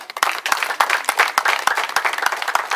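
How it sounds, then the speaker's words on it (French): A crowd at a school key-handover ceremony applauds an arriving teacher, a burst of sparse, uneven hand claps close by over just under three seconds. "l'enseignant qui est arrivé, on va l'applaudir"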